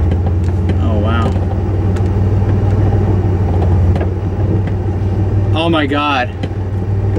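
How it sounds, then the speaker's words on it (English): A 1991 Chevy S10 truck in four-low crawls up a curb, its engine a steady low rumble throughout with no revving, as a voice exclaims briefly over it. "I just put it in 4 low, and without even putting on the gas, it just walked right up the freaking curb."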